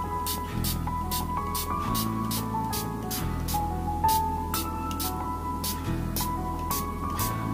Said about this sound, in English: So now I will spray some water on the paper towel.